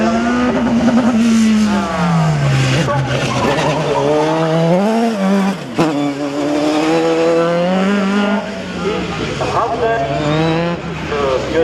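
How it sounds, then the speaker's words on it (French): A single-seater race car at a slalom event sweeps past with a loud engine, its pitch climbing and falling through repeated gear changes and revs. A commentator talks over the car throughout. "pilote de cette monoplace qui passe à nous dans l'immédiat"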